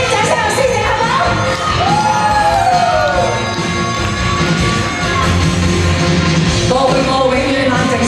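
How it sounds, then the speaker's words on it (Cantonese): A concert crowd cheers and shouts with whoops over loud ongoing music, a continuous dense roar of voices at a live Cantonese pop show. "俾啲掌聲我師姐好唔好"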